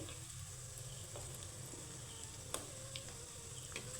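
Pitha sweets fry in hot oil until reddish, a quiet, even sizzle with a few soft ticks and clinks from stirring. No voice is heard.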